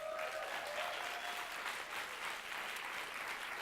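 A conference audience gives sustained, even applause to welcome speakers, dense clapping filling the room without pause.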